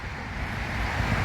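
Street traffic outside a nature trail, heard as a low, continuous roar of passing cars that swells slightly over about a second, with no talking.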